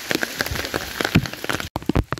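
Rain falls steadily on a mountain hiking trail on Mount Slamet, a close, dense patter of drops on surfaces with scattered sharper splashes throughout.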